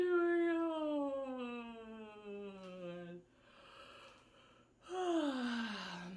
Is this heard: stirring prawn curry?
no